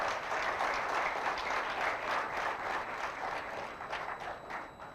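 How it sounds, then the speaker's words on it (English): An audience at a youth entrepreneurs' foundation event gives a round of applause, a dense, steady wash of many hands clapping at moderate loudness. "audience, please give them a big round of applause"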